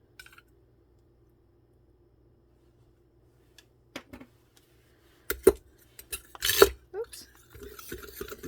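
Night cream ingredients being stirred in a container, with sparse clinks and scraping strokes after a quiet stretch, then a cluster of louder rattling taps near the end.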